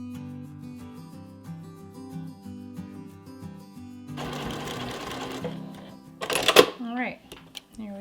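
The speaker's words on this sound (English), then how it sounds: "back stitch in quite a few different places, maybe 3 or 4, to really make sure that these pieces of elastic are sewn together" Sewing machine running steadily while stitching pieces of elastic together for a fabric bowl cover, with a burst of noisier rustling and a few sharp clicks near the end, heard alone.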